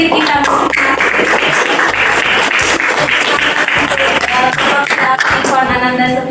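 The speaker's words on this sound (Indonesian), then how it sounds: "Tepuk tangan untuk diri kita." Enthusiastic applause from a room of students and a teacher at the end of a classroom lesson, many hands clapping loudly and continuously, with some voices and cheering mixed in.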